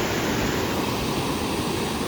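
A swollen hillside stream rushes during heavy rain in a close, loud, unbroken roar of broadband water noise with no voices.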